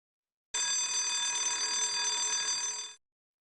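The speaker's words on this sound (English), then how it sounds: "Suddenly, she heard a painfully familiar sound, a security alarm." A security alarm from a Batman and Robin interactive video game rings as one continuous, steady electronic tone, loud and alone, lasting about two and a half seconds before cutting off.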